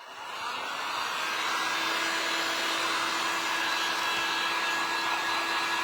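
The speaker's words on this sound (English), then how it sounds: "I'm going to put the dryer." A hair dryer blows continuously at close range, a loud steady whoosh with a high whine that ramps up at the start and holds.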